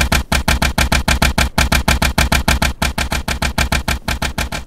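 A fuel-powered engine in Minecraft runs loudly, a fast, relentless chugging of evenly spaced mechanical pulses, several per second, close and harsh with no pauses.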